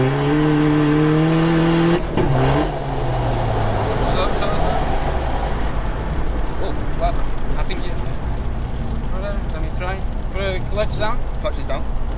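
A 600bhp NOS-powered SEAT Ibiza 1.9 TDI revs loudly in second gear for a couple of seconds before the engine note drops, leaving road and wind noise under excited voices talking.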